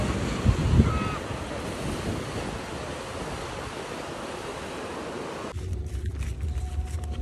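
Steady broadband wash of surf rolling onto a shore, continuous and fairly loud, with a brief low thump near the start and a shift in texture near the end.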